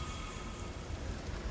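Rainstorm in the video game God of War Ragnarok: an even, steady hiss of heavy rain with a low rumble underneath, brief and continuous.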